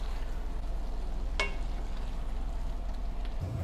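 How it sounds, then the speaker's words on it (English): Steak bites folded gently into a garlic butter sauce in a hot pan, a steady close sizzle with one brief utensil clink partway through. "we're going to fold in our steak"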